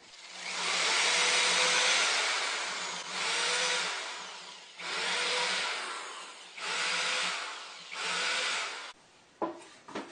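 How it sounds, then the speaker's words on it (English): A power drill drives screws into a wooden table in a home workshop: five long whirring bursts separated by short pauses, close and loud, ending with a few quick knocks and handling sounds. "I'm going to just screw it, and I'm going to put screws in here and here"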